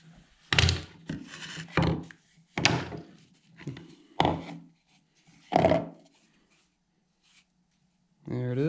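Wooden clamps are pulled off freshly glued wooden parts in a workshop, giving a series of about six separate knocking, scraping clatters spaced a second or so apart, followed by a quiet gap and then a voice at the end.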